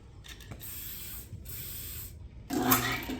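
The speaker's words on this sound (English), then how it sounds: "get your WD-40 and fan all that cable with it" WD-40 sprayed from an aerosol can onto a drain cable: two short bursts of hissing spray, then a rougher, louder rustle at the end.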